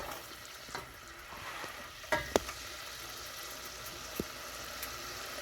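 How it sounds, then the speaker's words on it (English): Butter bubbling and foaming in a pan while being stirred for macaroni and cheese, a steady soft sizzle with a few sharp clinks of the spoon against the pan. "I'm going to keep stirring it until the butter foaming stops"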